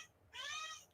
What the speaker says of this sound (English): my cat started meowing